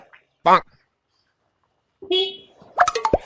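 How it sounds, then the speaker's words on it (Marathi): A few short, nasal car horn honks sound in brief bursts, with voices and other noises around them. "अरे हॉर्न कुठं होतोय"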